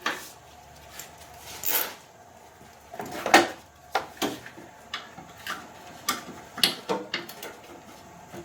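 A wrench works blindly at a bolt under the battery tray of a fourth-generation Nissan Maxima, giving scattered metallic clicks, ticks and knocks at irregular intervals, close and fairly faint, with no talking.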